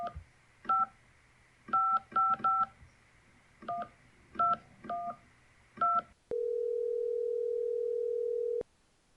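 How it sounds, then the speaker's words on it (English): Touch-tone telephone keypad beeps in irregular bursts of about a dozen presses, clear and close, followed by a steady ringback tone held for roughly two seconds. "Dial it up."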